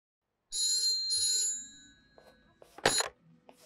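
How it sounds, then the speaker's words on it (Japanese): A telephone rings in the video game Yakuza: Like a Dragon: two bright electronic trill bursts, then fainter game sounds and a sharp short click near the end. "俺宛に電話がかかってきた。"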